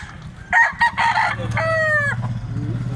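Roosters crowing at a chicken market in Consolacion, Cebu, two loud, close crows in quick succession over a low background hum, with clucking afterward.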